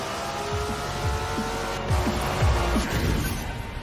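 A Nissan 300ZX roars through a fast lap in Forza Horizon 4, its engine climbing and dropping through quick gear shifts in a steady, loud drone without talk.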